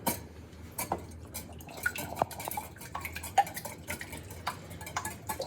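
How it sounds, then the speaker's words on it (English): Eggs and splash of cream being whisked in a bowl for a fluffy American-style omelet, a steady run of light metallic clicks and taps against the bowl, close and fairly quiet with no talking. "We're going to hit it with a whisk. Break those yolks first."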